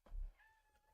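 A house cat meowing softly and briefly, a drawn-out tonal call that follows a low thump and stays faint and close throughout.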